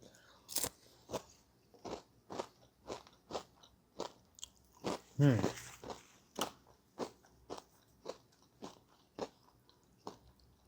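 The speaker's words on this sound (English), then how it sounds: "Hopefully my chewing and crunching isn't too loud in the microphone." Rice Krispies chewed with crisp, regular crunching bites about twice a second, close to the mic, with one louder crackly burst in the middle and no talking.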